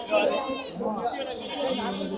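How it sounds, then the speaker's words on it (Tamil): Young goats bleating at the Reddiarpatti goat market, several wavering cries overlapping close by amid a busy crowd, with people talking throughout. "இதெல்லாம் குட்டி ஆடுகள்"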